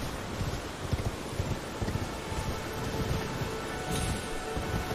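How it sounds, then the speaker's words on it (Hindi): Steady wind blowing across an open outdoor area in the video game Elden Ring, a constant broadband rush with soft gusty swells and no voices. "अच्छी हवा चल रही है"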